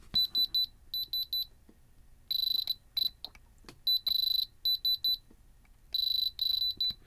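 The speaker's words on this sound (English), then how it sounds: "Let's grab the diamond tester." Handheld diamond tester beeping on VVS moissanite stones set in a smartwatch bezel, rapid high electronic beep bursts repeating in clusters with short pauses, close and clear with no talk.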